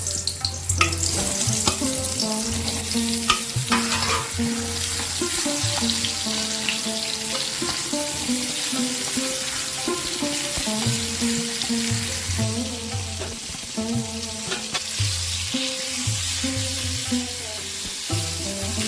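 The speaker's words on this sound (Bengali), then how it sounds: "এবার আমি বেগুনগুলো ভেজে নেব" Brinjal pieces fry in hot oil in a kadai and are turned often, giving a sustained close sizzle with stirring scrapes, while a steady tonal hum runs underneath.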